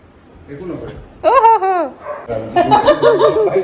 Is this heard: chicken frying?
no